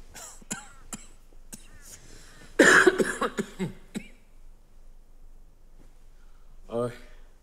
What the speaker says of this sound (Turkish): Kötü öksürüyorsunuz.